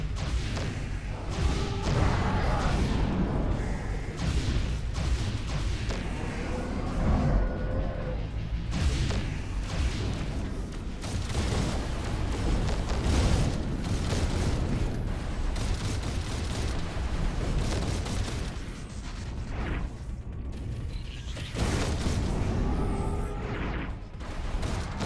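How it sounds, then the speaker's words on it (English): Dense, continuous roar of explosions and weapon blasts from the Overload video game, loud and sustained throughout with repeated bursts and no clear pauses. "Hiding behind all explosions."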